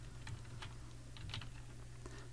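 Keys clatter on a computer keyboard while a CSS media query is typed for a web layout, a quick irregular run of close, light clicks over a low steady hum.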